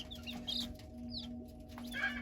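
Young chicks in a brooder, a few soft, faint peeps and clucks over a low steady hum, quiet and close.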